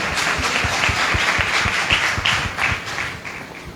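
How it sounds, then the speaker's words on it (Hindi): A church congregation claps together in a steady, even rhythm, a close, full round of many hands that fades slightly toward the end. "ताली तो बजाओ।"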